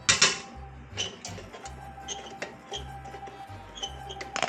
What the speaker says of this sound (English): we're going to use a 5mm Allen wrench to loosen this bracket here